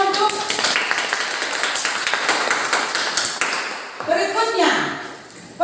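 A classroom of students breaks into brisk applause, a dense patter of many hands clapping for a few seconds that fades out as a voice begins speaking.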